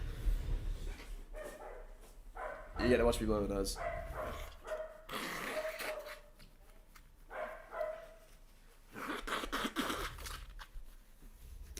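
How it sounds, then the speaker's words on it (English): A household dog barks a few times in short bursts in the background while someone talks and sniffles close to the microphone. "Apologies about my dog as well."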